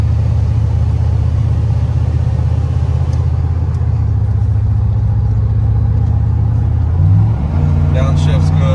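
A 1989 Chevrolet C1500 shortbed pickup with a 5.7 V8 drives along, its engine rumbling low and steady from inside the cab, with a gear change and revving shift near the end; someone talks over it.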